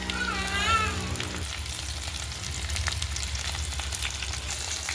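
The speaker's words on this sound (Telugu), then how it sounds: "ఉల్లిపాయలు వేగిపోయాయి ఇప్పుడు బెండకాయ ముక్కలు వేసుకుందాం" Okra pieces fry with onions in a pan, giving a continuous close sizzle with a few light stirring taps. A brief tonal whine opens the first second and a half.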